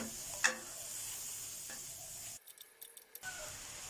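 Steady frying hiss from a pan of bite-sized chicken breast cooked without oil, occasional scraping stirs, a brief louder clatter, and a short gap of quieter crackle near the end.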